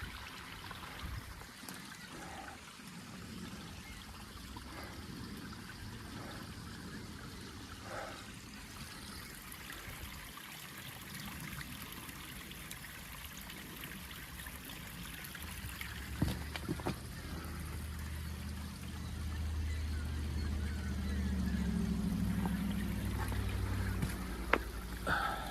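Water flows steadily out of a tunnel in a forest setting, a soft continuous trickling rush that swells louder toward the end, with no voices.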